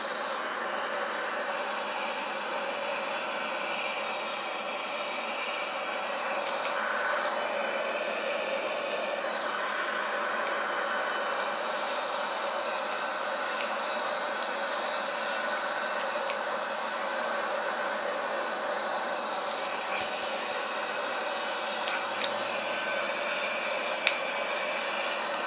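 Simulated Boeing 737-800 jet engines of an El Al airliner in Microsoft Flight Simulator X, a steady broadband roar and hiss at constant level during manual flight toward landing, with faint clicks near the end and no one talking.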